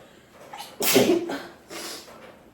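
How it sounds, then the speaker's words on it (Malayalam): A single loud sneeze bursts out near the microphone, followed by a short breathy tail and a softer exhale moments later. "മഴ പെയ്തില്ലേ തുമ്മാൻ തുടങ്ങി"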